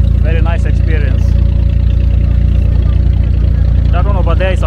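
A boat engine drones steadily and loudly during a pleasure ride in Dubai, a constant low rumble with a voice briefly over it at the start and end.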